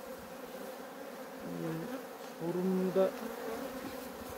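Honeybees buzz restlessly at a hive in Ardahan in October, a close, wavering drone that swells and pitches up around the middle as individual bees pass near, with a few brief spoken words.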